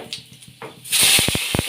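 Curry leaves drop into hot oil already tempered with mustard seeds, cumin and fenugreek, bursting into a sudden loud hiss with a few sharp crackles, brief and close.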